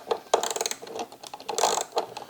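A quarter-inch socket wrench ratchets off small lock nuts and bolts on the landing gear of an E-flite DRACO 2.0m model airplane, producing close, rapid clicking bursts in uneven runs.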